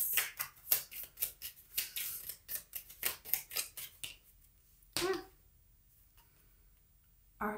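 Tarot cards being handled and shuffled, a quick run of crisp snapping flicks and riffles close up, then a pause and two more isolated card slaps, with no voice over them.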